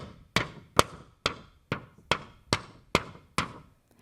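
Eight sharp, evenly spaced taps from a paper sheet handled to imitate falling hail, each a crisp close impact with a short decay, ringing out alone with no voices.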